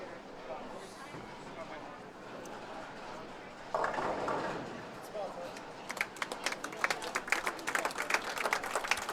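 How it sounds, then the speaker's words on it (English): Scattered applause from a bowling tournament audience at the Manitoba Open in Winnipeg, starting as a soft wash, swelling briefly, then breaking into sharper, uneven claps from a modest crowd, with some voices murmuring underneath. "So a good round of applause there for Felicia and Mike in that match"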